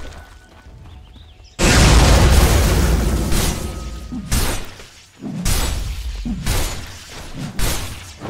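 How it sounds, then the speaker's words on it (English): Battle in Dota 2 around a tower under attack, with a sudden loud booming blast followed by a string of heavy crashing impacts and bursts, close and dense. "Dire's bottom tower is under attack."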